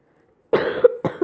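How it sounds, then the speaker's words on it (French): Two close, rough coughs in quick succession break a moment of silence. "désolé, je tousse"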